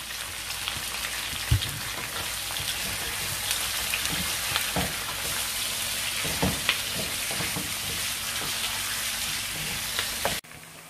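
Onions fry with salt in a pan, giving a constant crackling sizzle punctuated by occasional stirring knocks, before the sound cuts off abruptly just before the end.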